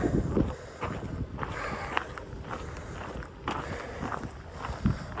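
Steady, broad wind rushing across the microphone outdoors, with gusty buffeting and a few soft crunching footsteps underneath.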